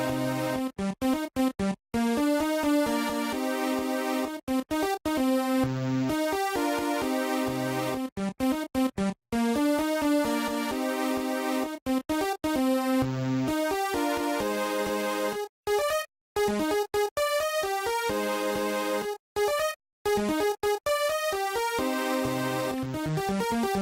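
A dense electronic FL Studio 11 track with layered DNC Orion strings plays on, sustained and harmonic, and is broken by several abrupt cuts and short silences. No one speaks.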